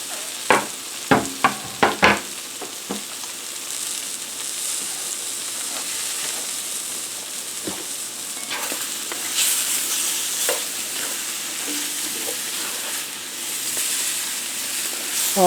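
Portabella mushrooms fry in a cast iron skillet with a steady hiss and crackle. Several sharp clacks of a utensil stirring them come early, and further scrapes follow later against the constant sizzle.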